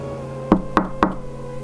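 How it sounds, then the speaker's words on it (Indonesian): Three soft, evenly spaced knocks, likely on a window or bedroom door at night, sounding close and clear with no voices. "Sayup-sayup saya mendengar suara bunyi ketukan yang halus"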